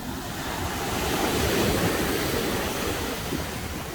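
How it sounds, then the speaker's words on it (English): Sea waves washing onto a white-sand beach in Tenerife, a steady broadband rush of surf with gentle swells, close and fairly loud, with some wind noise and no voices. "Look at that sea."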